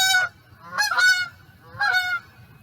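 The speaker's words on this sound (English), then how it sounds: "You hear them geese honking?" Geese honking as they fly over, in three loud, close bursts of several calls each, separated by short pauses with quiet low background hum.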